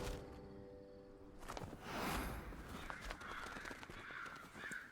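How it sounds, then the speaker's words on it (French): A crow caws repeatedly in a video game scene, sharp harsh calls standing out over a steady game ambience with no speech. "Ça doit avoir une signification le corbeau, je pense."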